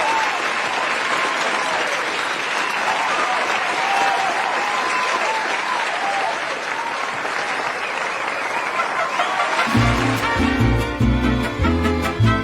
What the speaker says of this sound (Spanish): Merece su aplauso.